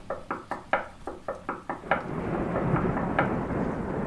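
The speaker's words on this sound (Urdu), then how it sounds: "اس کا دروازہ کھٹکھٹانے لگتی ہے" A cartoon bird knocks on a door in the rain: about eight quick, evenly spaced raps, then steady rainfall with a faint rumble takes over as one more knock sounds.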